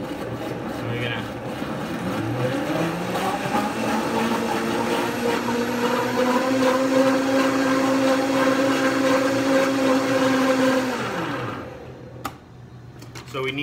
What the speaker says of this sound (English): I'm gonna take these and put them in my Vitamix. So we're gonna have some noise here